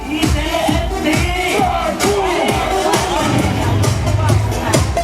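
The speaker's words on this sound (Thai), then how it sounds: "ขอเสียงปรบมือกับพี่เทสด้วยนะครับ" A lively crowd at a Dragon Nest gaming party event roars and cheers, with shouting voices and a steady wash of noise throughout.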